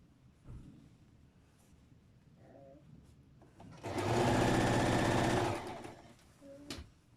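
A sewing machine stitches skirt panels in one loud, close burst of rapid mechanical whirring lasting about two seconds, framed by quieter handling clicks and rustles of fabric.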